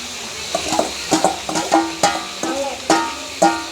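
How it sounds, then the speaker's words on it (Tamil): Leeks sautéing with onion and green chilli in a pan, with a soft background sizzle broken by sharp, regular metallic spoon clinks and scrapes against the pot, close by and without talk. "லீக்ஸ் வந்து அப்படியே வதங்கட்டும்"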